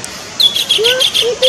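Kingfisher (burung tengkek) calling from the tip of a branch in a park, a series of sharp, high chirping notes repeated in quick succession, fairly loud and clear.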